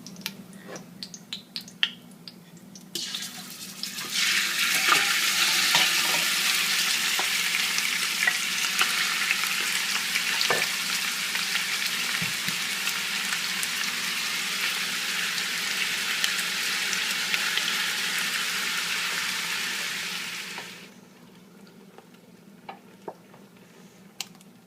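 Ground turkey browns in a hot pan with a steady, bright sizzle that holds for about fifteen seconds, broken by light scraping clicks of stirring, then fades quieter toward the end.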